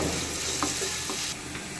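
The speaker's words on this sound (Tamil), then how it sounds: "வெங்காயம் பொன்னிறம் வர்ற வரைக்கும் நல்லா வதக்கிக்கலாம்." Onions sautéing in a pan with mustard seeds and cumin, a steady close sizzle with a brief stir, alone with no talking.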